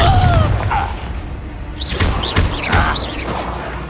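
A Confringo fire spell bursting in Hogwarts Legacy combat, a heavy booming blast up front followed by a busy run of whooshing and clattering magical impacts, with no talk.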